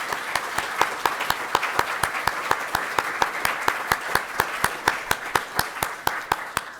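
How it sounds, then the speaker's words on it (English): A lone person claps steadily at a conference session on climate change and health services, with evenly spaced sharp claps over a faint murmur of room noise and no one talking. "join me in a round of applause for these teams who are creating resilience"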